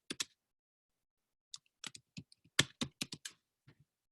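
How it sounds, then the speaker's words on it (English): Short bursts of keyboard typing, a few quick clacks, a pause, then a busier run of keystrokes, close and fairly quiet. "I'm typing, just give me 1 second."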